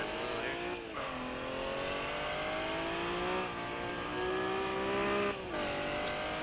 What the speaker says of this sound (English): And I like that skid sound that he's added in